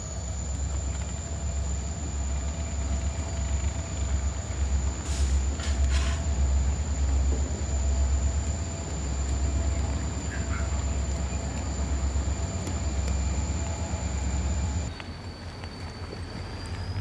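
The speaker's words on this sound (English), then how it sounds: "The first locomotive is right here, already headed into the tunnel." A steady low rumble of a model train running along track, with a constant high whine and a few faint clicks, continuous for most of the clip before dropping off.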